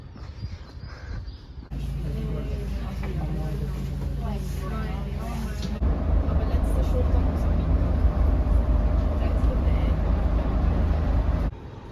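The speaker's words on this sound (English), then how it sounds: "Here's the train." A train passing through Visp, Switzerland, heard as a sustained low rumble with rising mechanical noise, loud and near, with brief talk and street bustle mixed in.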